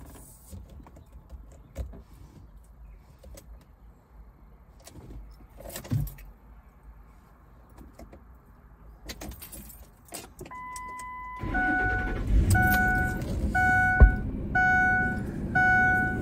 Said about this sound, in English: I'm just looking where to put the key